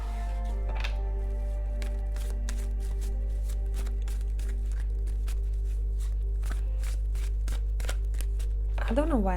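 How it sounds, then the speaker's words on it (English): Crisp riffling and flicking of playing cards being shuffled, repeated in quick bursts over a steady low hum. "Let me shuffle the deck and see what we have."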